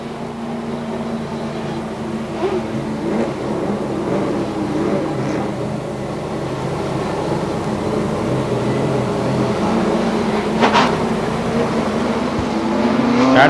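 Pro Stock race cars from the Winston Racing Series idle and rumble at Star Speedway in New Hampshire, a steady engine drone that builds slightly in loudness toward the end.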